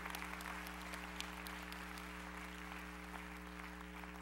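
An audience at a sermon applauds together as a faint, steady patter of many hands, heard at a distance over a low electrical hum, with no talking.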